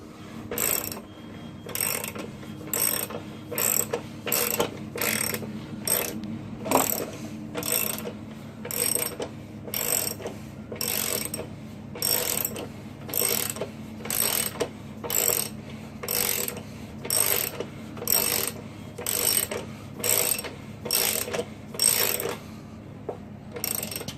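A ratchet tightening the front wheel axle of a 2016 Triumph Rocket 3 Roadster, with around twenty evenly repeated bursts of rapid clicking, close and clear with no talk.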